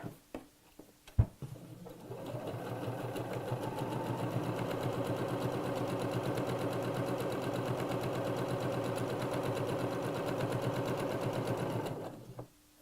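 Sewing machine stitching a letterbox zip, running in one steady, fast, even burst for about ten seconds after a couple of clicks, close and fairly quiet, with no talking.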